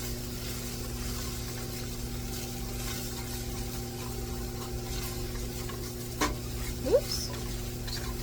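A spoon stirs sprinkled cornstarch or flour through food sizzling in a pan, giving a steady close frying hiss with a low hum under it and a couple of brief scraping knocks near the end.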